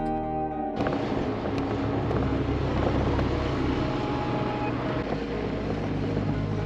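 A Jeep rolling along the rough Tower Arch 4x4 trail in Moab, its engine a steady, loud low drone with rumble and wind buffeting throughout, no voices.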